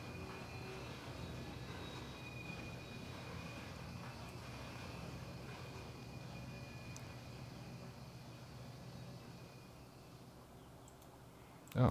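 Steady low rumble and hum of model trains running on a layout, continuous and even with faint clicking, close and moderately quiet, ending in a brief sharp knock.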